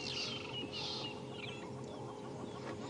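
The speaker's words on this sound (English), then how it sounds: "It is the go-away bird. It makes the go away," A grey go-away bird calls on a morning safari drive in the African bush. Two loud, nasal, drawn-out cries come close together, followed by softer chatter over a constant low hum.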